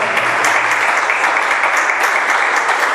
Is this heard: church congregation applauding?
yes